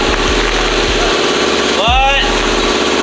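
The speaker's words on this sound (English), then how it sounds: "The compressor's so loud, bro." A loud air compressor runs in a home garage during a truck build, a heavy continuous motor drone with a brief rising whine midway, and voices are briefly audible.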